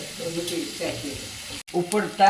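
Onions and green chilies sauté in hot oil with a soft, close sizzle that runs briefly beneath a speaking voice.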